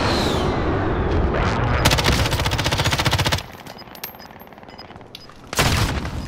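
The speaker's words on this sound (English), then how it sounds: "I am under fire." Rapid automatic gunfire in a battle royale video game, dense bursts of rattling shots that cut off abruptly, a pause with scattered single cracks, then another loud burst near the end.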